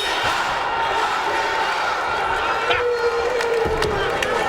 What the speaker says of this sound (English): And the crowd screaming, knock him out!